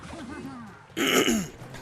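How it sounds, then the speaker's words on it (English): A person clears their throat once, a short rough rasp, close and fairly quiet after a moment of low voice. "let me clear my throat for a second"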